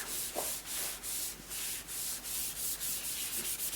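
Steady back-and-forth wiping strokes on a laptop surface as sticker residue is rubbed off, a close, continuous scrubbing with a regular rhythm and no talking.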